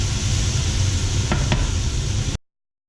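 Mirepoix vegetables browning in a pan over medium-high heat, a loud steady sizzle with two quick utensil scrapes partway through before cutting off abruptly.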